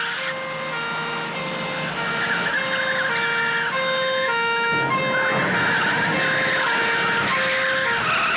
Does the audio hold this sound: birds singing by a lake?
no